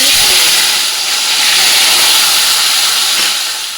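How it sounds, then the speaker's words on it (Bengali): Rohu fish fry in hot mustard oil in a kadai, giving a loud, steady, close-up sizzle and hiss that continues without pause and fades slightly toward the end. "কড়াইয়ের মধ্যে সর্ষের তেল দিয়ে দেবো রুই মাছগুলো ভেজে নেওয়ার জন্য তেলটা গরম হয়ে গেছে"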